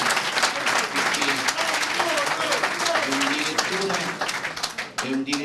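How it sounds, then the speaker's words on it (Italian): Audience applause for Nicola at a Casertana football club presentation, steady and fairly loud, with voices talking over the clapping. "Facciamo un applauso a Nicola"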